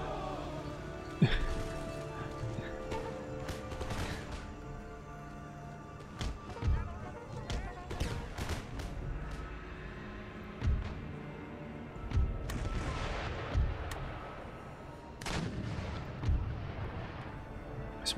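Cannons and musket volleys boom across a battlefield in Empire: Total War, with howitzers, mortars and horse grenadiers engaged. Repeated heavy thuds and sharp cracks land at irregular intervals, some near and loud, others distant, over a steady din of battle.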